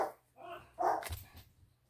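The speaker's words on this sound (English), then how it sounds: "I was hoping we'd get through without little dogs barking" Small dogs bark in a few short, sharp bursts at a moderate distance, with quiet gaps between them, in a residential setting.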